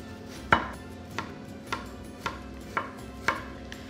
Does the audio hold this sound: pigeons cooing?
no